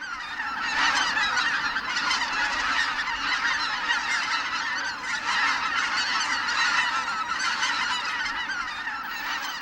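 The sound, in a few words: honking flock of greater white-fronted geese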